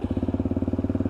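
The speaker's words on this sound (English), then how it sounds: "once again the purr of that LXR engine" A Lexmoto LXR 125cc motorcycle idles close up with a steady, even single-cylinder putter that pulses at a regular rapid beat, loud and with nothing else over it.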